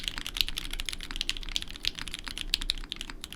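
Fast, continuous typing on a polycarbonate Kohaku mechanical keyboard, a steady patter of muted, close keystrokes with no voices.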